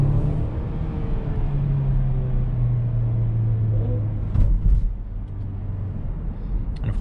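Steady low engine drone and road rumble from a 2021 Mercedes-Benz GLC 300 SUV with a 9-speed automatic, driving at night, heard continuously from inside the cabin with a brief louder bump midway.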